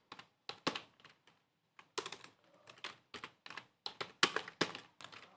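Rapid keystrokes on a computer keyboard while writing Java code, coming in irregular bursts of clicks with short pauses between them, close and clear with no talking.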